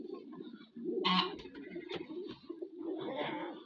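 Pigeons coo softly and close by, low throaty murmurs rolling on through a short quiet stretch of ambient noise with no talking.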